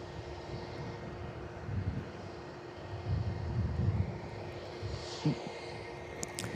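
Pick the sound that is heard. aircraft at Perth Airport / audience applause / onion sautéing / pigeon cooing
aircraft at Perth Airport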